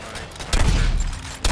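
Weapons fire in the video game Suicide Squad: Kill the Justice League: a loud burst of rapid shots starts midway, followed by a second heavy burst near the end over game ambience.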